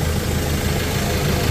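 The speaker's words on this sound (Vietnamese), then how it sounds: "Nhưng mà xe còn rất ngon, máy nổ rất là êm." A Ford Ranger XLT pickup with a 2.2-litre engine, manual 4x4, idles steadily with a low, even rumble and faint vibration throughout, close and continuous with no talk.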